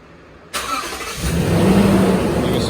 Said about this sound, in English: can see the truck starts up.